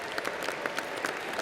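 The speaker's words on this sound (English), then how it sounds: "We applaud all of you for a job well done." A brief burst of dense, even clapping rises from a university commencement audience, sounding steady and fairly distant in a large hall.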